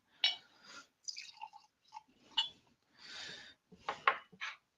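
Bardstown bourbon whiskey is poured into a glass, with faint clinks and short liquid splashes in a quiet room, no talking.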